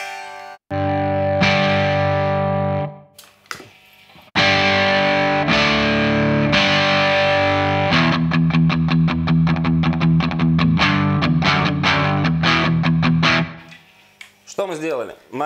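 Electric guitar through a BOSS SD-1 overdrive pedal plays sustained, crunchy chords, then switches to fast, chugging palm-muted riffing, loud and saturated, with brief gaps between phrases.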